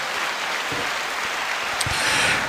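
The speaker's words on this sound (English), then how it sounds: "Let me give you lovely people a round of applause" A steady patter of clapping rolls on for a couple of seconds, soft and hissing like rain, as an audience is applauded during a live reaction stream.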